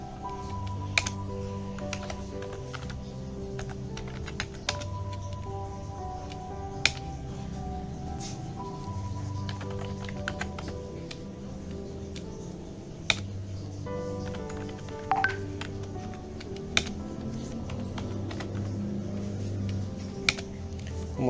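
Computer keyboard typing while an IP address for VLAN 10 is entered during a network configuration task, light irregular keystrokes with a few sharper clicks over a steady background hum, no talking.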